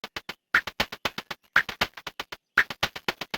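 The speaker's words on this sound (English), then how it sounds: "And then we have a second one that sounds like this." A busy, tight drum pattern of rapid percussive hits with a sharp accent repeating about every second, steady and upfront with no talking.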